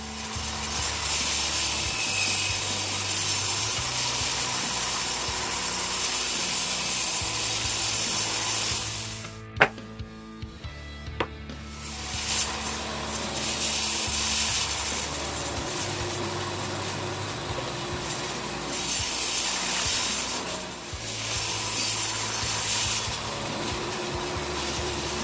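Table saw with a crosscut sled cutting plywood squares, a steady loud whine and rasp running continuously, briefly stopping mid-clip before the blade resumes cutting.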